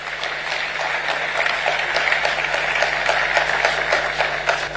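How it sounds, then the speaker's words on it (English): Sustained, dense audience applause fills a hall at the 13th John Evans Atta Mills Memorial Lecture, an even wash of many hands clapping over a faint steady low hum. "Yes, please do keep the applause going for Professor Mauto"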